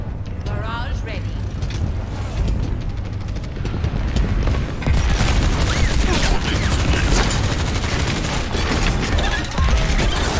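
Barrage ultimate in the Overwatch video game, a dense, loud rapid volley of rocket launches and explosions rumbling continuously, with game voices talking over it.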